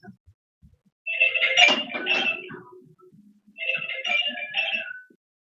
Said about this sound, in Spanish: Se escucha conversaciones de fondo, teléfono.